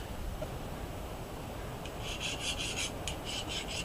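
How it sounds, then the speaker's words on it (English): Quiet, steady rasping of a file skating over hardened steel of a hand-forged dagger, a series of short strokes starting partway through over a low background hiss. "The edge of the file is just skating over it"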